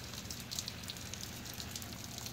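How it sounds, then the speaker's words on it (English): Spring shower rain falling steadily outside near a garden, a soft continuous hiss with scattered faint drop ticks, fairly quiet and without any voices. "It's raining pretty good"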